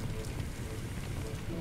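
Heavy rain in Firefighting Simulator, a steady dense hiss of falling water and drops on surfaces, continuous and fairly loud with no speech over it.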